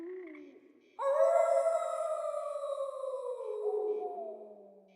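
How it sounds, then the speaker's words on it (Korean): A long wolf howl in a dating game rises sharply, then holds a steady wavering tone for several seconds before slowly falling away, loud and close with no talk over it. "이젠 하다하다 늑대 소리까지 내네"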